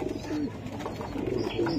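Pankhi pigeons coo in a breeding loft, a steady low warbling that runs the whole time, close and fairly loud, with several birds overlapping.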